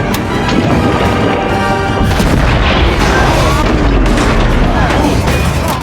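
A loud, sustained booming torpedo blast shattering a boulder, with crashing, rumbling debris that fills the whole stretch, dense and heavy throughout.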